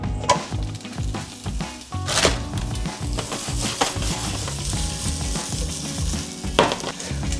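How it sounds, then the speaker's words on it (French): Bell peppers fry in olive oil with a steady, fairly loud sizzle, broken now and then by the clatter of stirring in the pan. "On va mettre un filet d'huile d'olive. On ajoute les poivrons."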